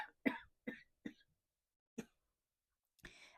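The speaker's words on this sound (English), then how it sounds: "Excuse me while I cough." A quiet series of short coughs, several quick ones in a row, then a pause and one more raspy cough, close and otherwise silent.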